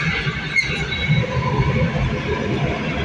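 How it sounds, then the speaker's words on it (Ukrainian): An electric commuter train passing at a distance, a steady loud rumble with faint high squealing tones running through it and no talk. "а там електричка"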